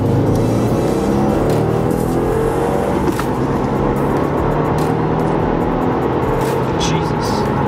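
A Subaru WRX accelerates hard at full throttle in second gear, its engine a loud, steady roar heard from inside the car, continuous throughout with a person talking over it.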